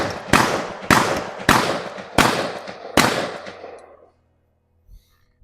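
Five sharp, loud shots from a Cometa 300 USC Premier air rifle firing pellets at an outdoor range, evenly spaced with a ringing decay after each, followed by quiet.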